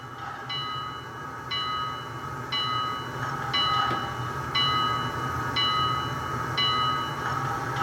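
Bell from the sound decoder of a Bachmann HO scale Class J #611 model steam locomotive, ringing in a steady repeating clang of about eight strikes over a low chuffing background hum.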